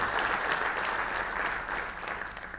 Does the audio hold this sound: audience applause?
yes